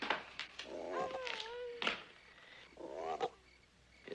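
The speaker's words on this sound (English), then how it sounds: "if you don't cut out that croaking, I might just pull the plug on you" Frog croaking by a lake at night in an old Western drama: a few strained, wavering croaks, moderately loud and close, with no voices over them.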